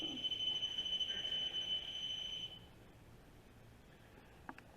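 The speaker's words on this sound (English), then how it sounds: "It'll beep when you touch it." A high electronic tone sounds steadily for a couple of seconds, then stops, leaving quiet room noise and a faint click near the end.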